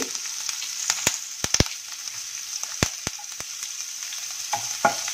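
Spices, asafoetida and curry leaves spluttering in hot oil while tempering, a continuous fizzing sizzle with sharp scattered pops and crackles, close and steady with no talking.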